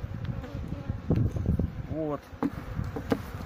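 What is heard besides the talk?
honey bees buzzing at a beehive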